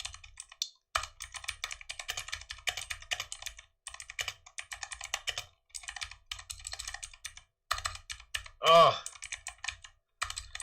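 Fingers type on a computer keyboard during a coding session, rapid clattering bursts of keystrokes separated by short pauses, close and crisp, with a brief vocal sound near the end.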